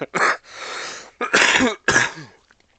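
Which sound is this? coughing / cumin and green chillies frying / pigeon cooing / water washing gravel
coughing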